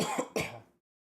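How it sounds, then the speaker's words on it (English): Two short, harsh coughs in quick succession from a person with hiccups, close and fairly quiet, with a rough throat-clearing quality and no speech over them. "The hiccups are causing me to fucking cough."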